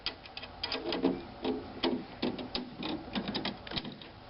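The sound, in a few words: drum key loosening drum head tension rods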